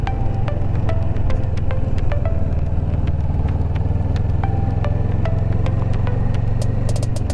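A 2019 CF Moto 400 NK twin-cylinder motorcycle engine idling, a loud close steady throb with sharp metallic ticks and clicks scattered over the running rumble, no talking.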